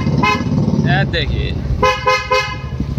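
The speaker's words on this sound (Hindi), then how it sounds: "इसमें हॉर्न जो लगा है ना, अगर बजाएगा फिर से" Horn on a Royal Enfield Bullet Classic 350 motorcycle sounds in several short, loud, close toots with brief gaps, while someone speaks briefly alongside.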